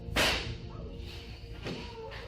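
A gunshot captured on police body camera footage during a hospital shooting, a single sharp loud crack followed by a fainter second report about a second and a half later.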